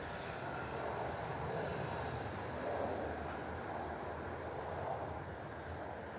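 A Jetstar jet airliner takes off on runway 34 at Melbourne Airport, its engines a steady broad roar that carries on unbroken from a distance for several seconds.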